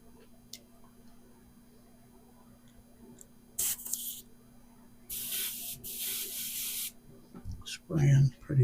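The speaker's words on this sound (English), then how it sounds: "Spraying pretty good." An airbrush sprays paint onto a military tribute sign in short hissing bursts, one brief and two longer, separated by quiet gaps, with faint handling noises and a low hum underneath.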